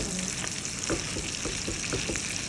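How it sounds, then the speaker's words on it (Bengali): Rice fries in a pan with a bright, continuous sizzle, broken by light scraping taps as it is stirred at a roughly regular pace, close and fairly quiet with no talk. "আর একটু ভাজা হবে, আর একটু ভাজা হোক"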